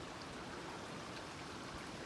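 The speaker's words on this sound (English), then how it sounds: "Oh, there's a little creek." A small creek flows through Grand Mesa National Forest, giving a faint, steady rushing babble of water with no voices.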